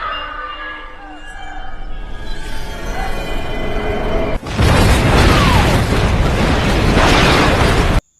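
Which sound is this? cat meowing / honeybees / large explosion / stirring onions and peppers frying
large explosion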